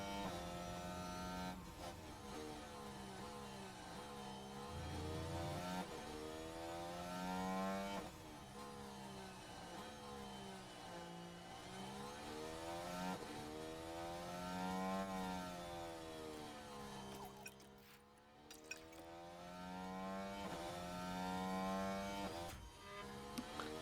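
Formula 1 cars in the racing game F1 Manager 2023, engines droning and rising and falling in pitch continuously as they race, loud and sustained with no pauses.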